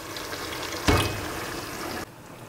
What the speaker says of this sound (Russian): Доливаю воды.